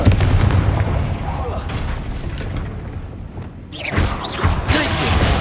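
Confringo blast spell in Hogwarts Legacy: a loud booming burst of game combat noise, with continuous rumbling effects and a second bright whooshing burst near the end.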